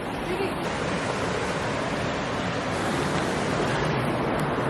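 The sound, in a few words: Colorado River water flowing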